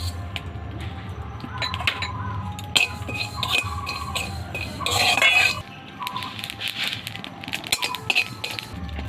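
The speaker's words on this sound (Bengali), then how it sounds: "এবার শুকনো খোলায় কালো জিরাটা ভেজে নেব।" Black cumin seeds are dry-roasted in a pan: a utensil clinks and scrapes against the metal in busy, uneven bursts, with a louder stretch of rattling midway.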